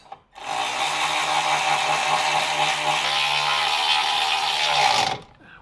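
A power tool drives bolts tight in a single continuous whirring burst of about five seconds, loud and close, starting and stopping abruptly.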